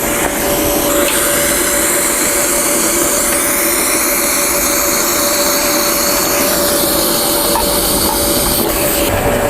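A YesWelder FIRSTESS MP200 TIG welding at its 200-amp maximum gives a loud, steady hiss with a constant buzzing tone that runs unbroken from start to finish.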